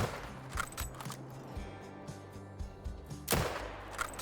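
Rifle fire from a community weapon pack in theHunter: Call of the Wild, with several sharp reports spaced a second or so apart and a heavier final shot that rolls out in a long echoing tail.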